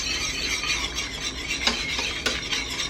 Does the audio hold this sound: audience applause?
no